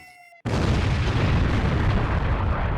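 A sudden massive explosion set off by drones bursts in after a quiet moment, followed by a loud sustained roar of rumbling, shifting rubble.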